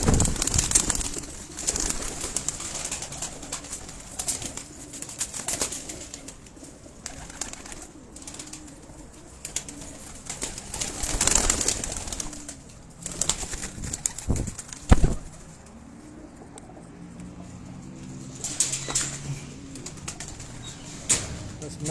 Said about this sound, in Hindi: तो यही कबूतर हैं